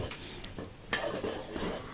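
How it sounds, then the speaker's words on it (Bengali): Rice flour is dry-roasted in a pan on a stove, heard as close scraping and rubbing strokes of a utensil against the metal with a soft hiss. "চুলায় চালের গুঁড়া ভেজে নেওয়া হচ্ছে"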